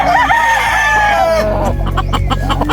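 A gamefowl bullstag rooster at a game farm crowing loudly and close, one long drawn-out call followed by a short burst of clucking.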